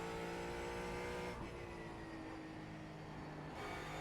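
A Ford Mustang GT4 race car engine in iRacing pulls hard under aggressive throttle, a loud steady drone that climbs in pitch, dips with a gear change around the middle, then keeps building, with no voices.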